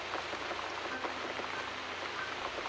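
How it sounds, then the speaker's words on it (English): Rain in the video game The Cat Lady falls as a steady, dense patter of drops across the whole stretch, close and even, with no voices. "Looks like we got the rain back."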